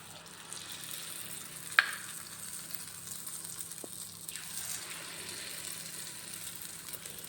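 Urad dal vada batter fries in hot oil with a soft, steady sizzle, a quiet, continuous hiss broken by a single small clink.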